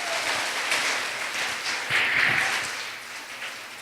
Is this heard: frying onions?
no